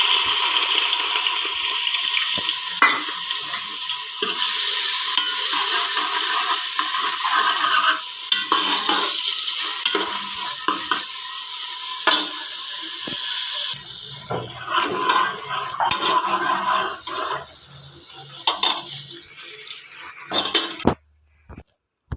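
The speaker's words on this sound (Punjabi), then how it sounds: "ਤੇਲ ਆਪਣਾ ਜਿਹੜਾ ਗਰਮ ਹੋ ਚੁੱਕਿਆ ਵਾ ਤੁਸੀਂ ਵੇਖ ਸਕਦੇ ਹੋ ਕਿ ਹੁਣ ਆਪਾਂ ਇਹ ਸਮਾਨ ਆਪਣਾ ਜਿਹੜਾ ਅਦਰਕ ਪਿਆਜ਼ ਪਾਵਾਂਗੇ" Ginger and onion frying in hot oil for a potato and carrot curry, a continuous loud sizzle with frequent clinks and scrapes of a spoon against the pan, ending abruptly near the close, no voices.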